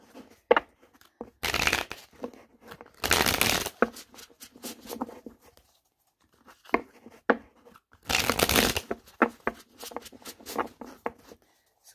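An oracle card deck is shuffled up close in several distinct bursts of rapid riffling flutter, separated by quieter taps and handling sounds.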